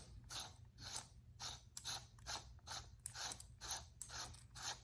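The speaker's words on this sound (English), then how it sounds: "Screws right into place." A screw being driven into a resin chassis, a quiet series of about ten evenly spaced ratcheting clicks close by, alone over a low hum.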